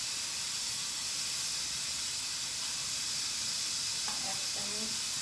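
Mustard seeds sizzling in hot oil for tempering, a steady loud hiss of frying that runs unbroken throughout, with a few faint knocks near the end.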